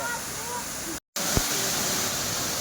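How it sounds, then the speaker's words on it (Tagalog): Tamaraw Falls, a roadside waterfall in Puerto Galera, Oriental Mindoro, gives a steady broadband rushing roar of falling water, interrupted by a brief total dropout near the middle before the continuous wash resumes. "Tamaraw Falls dito po ito sa Puerto Galera, Oriental Mindoro."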